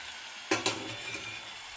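Puris frying in hot oil on a low flame, a soft bubbling sizzle with two quick stirring or splashing bursts near the start, close and brief.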